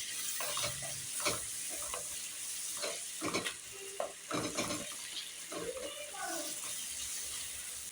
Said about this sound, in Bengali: এটা ভালো করে এবার নাড়তে থাকবো। টমেটোটা যেন ভালো করে গলে যায়, মশলাগুলো যেন ভাজা ভাজা হয়ে যায়